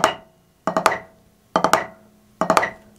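Snare drum drag rudiments played at 70 beats per minute: three evenly spaced clusters of quick grace strokes leading into a louder stroke, each ringing off before the next, close and clear with no talking.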